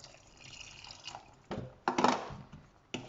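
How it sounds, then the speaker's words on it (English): Water poured into a simmering pot of omena, small silver fish, giving soft trickles and liquid splashes with a few sharper bursts near the end, close and fairly quiet. "So I'm going to add more water."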